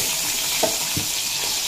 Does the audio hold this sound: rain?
no